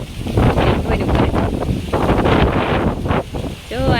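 Strong gusts of wind sweep across open hills, roaring loudly and continuously against the microphone with surging peaks, and a faint voice in the background.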